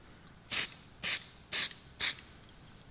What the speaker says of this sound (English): All right, just a couple little hits with that spray.